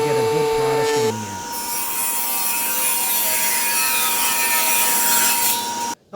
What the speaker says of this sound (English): I used a joiner on one side and the table saw to cut the other side